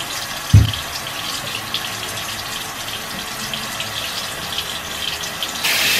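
A sink tap runs steadily while someone washes their face with cold water, a continuous close, moderate splashing hiss with a brief knock near the start and a louder gush at the very end.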